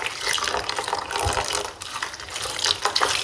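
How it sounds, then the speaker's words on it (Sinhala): Water poured over mixed, salted radish in a bowl to rinse it, a continuous close, loud gushing and splashing that runs unbroken from start to finish. "ඒකට මේ විදිහට වතුර දාලා"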